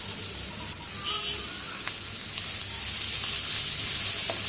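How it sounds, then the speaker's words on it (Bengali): Chopped onions hiss in hot oil with a continuous close sizzle that swells slightly louder partway through, with faint clinks from a utensil. "এখন পেঁয়াজ কুচি দিয়ে দিতেছে।"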